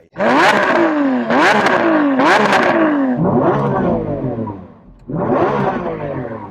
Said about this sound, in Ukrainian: ми зробимо перевірку вихлопної. Послухаємо SVG